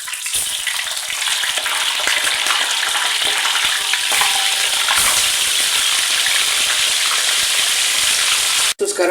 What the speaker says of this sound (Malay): Gorengkan tahu kita.